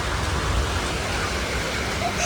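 Heavy rain pours down with wind during a storm, a dense, steady broadband roar of falling water that fills the whole clip without pause.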